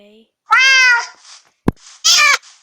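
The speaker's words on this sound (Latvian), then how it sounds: "Es pieradināju vienu kaķi. Re, kur mans kaķis ir." A cat in the Minecraft video game meows twice, loud and close, with a short click between the two calls and no talk over them.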